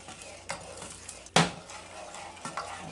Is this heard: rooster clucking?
no